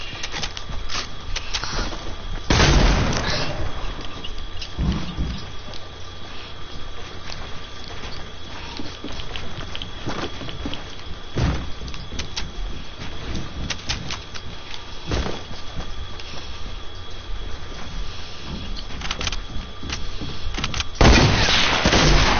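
Fortnite video game gunfire from pistols: scattered sharp shots, a loud burst near the start, several isolated cracks through the middle and another loud burst at the end, over steady game ambience with no talk.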